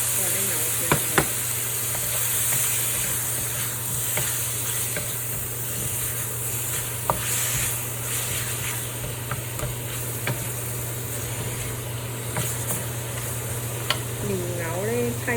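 Beef slices stir-frying in a wok with sweet soy sauce give a steady, close sizzle, broken by the occasional sharp clink of a spatula stirring against the metal.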